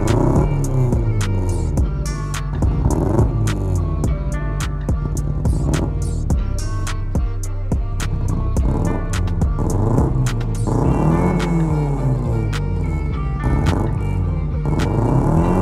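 A Honda Civic fitted with a newly installed exhaust flame kit, engine running steadily with loud, rapid popping and crackling bursts from the exhaust throughout, no talk.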